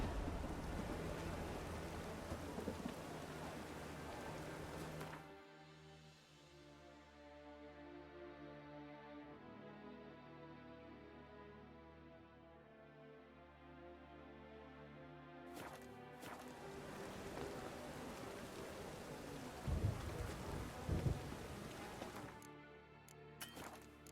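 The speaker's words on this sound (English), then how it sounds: "It just rains and rains." Rain and thunder in a video game: a dense hiss of rain gives way to a long, deep rolling rumble, then the rain returns with more heavy thunder bursts near the end. There is no talk.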